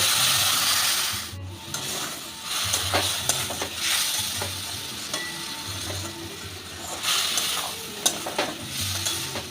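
Pumpkin curry being sautéed with a spoon of chaat masala and a little water, with a utensil steadily scraping and stirring in the pan over a soft sizzle, in repeated strokes at close range.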